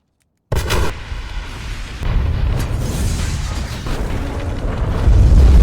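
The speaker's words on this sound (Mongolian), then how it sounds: "Ингээд киноны хамгийн iconic хэсэг буюу эмнэлгийн дэлбэрэлт болж байгаа юм." The hospital explosion from The Dark Knight film: a sustained, loud rumbling blast that swells and rolls on for several seconds, with a deep low-end boom building toward the end, no voices.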